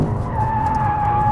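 A 2021 Lexus RC F Track Edition drifting, its tires giving a loud, steady, sustained squeal over engine roar, close and with no talk.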